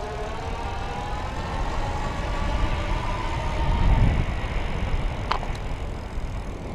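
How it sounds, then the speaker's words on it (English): Easy Motion Evo Cross electric bike motor running under throttle, a steady low drone mixed with wind and road rumble that swells slightly midway while riding outdoors. "Now I'm gonna twist that throttle."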